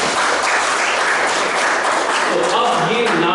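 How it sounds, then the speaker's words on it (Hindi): Dense, steady clapping from an audience at a Vedic teaching gathering in Brisbane, Australia, loud and continuous, with a voice faintly audible near the end. "ताली बजाइए"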